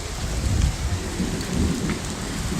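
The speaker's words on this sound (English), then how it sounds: "Absolutely pouring in Manila right now" Heavy rain pours down during a storm on the streets of Manila, a dense steady roar with deep rumbling underneath, loud and close, with no voices.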